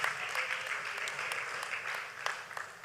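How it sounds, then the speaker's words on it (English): An audience at a book presentation in Lagos applauds an honoured guest, a faint but continuous patter of many hands heard from some distance throughout. "Please, can we give him a resounding applause?"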